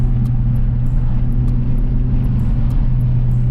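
Turbocharged engine of a 10th gen Honda Civic running under acceleration, a steady low engine drone with strong low-end rumble throughout, loud and close, with no talking.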